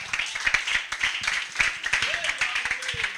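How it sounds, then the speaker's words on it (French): A church congregation applauding, with steady dense clapping from many hands that rises and falls in short surges, close and lively throughout with cheering voices mixed in. "tu peux m'acclamer pour le Seigneur"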